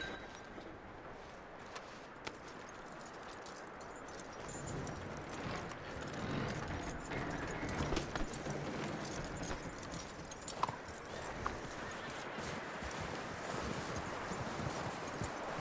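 Horse hooves clip-clop at a steady walking rhythm in the Red Dead Redemption 2 Wild West game, a continuous mid-level patter over an outdoor ambient bed with no talk.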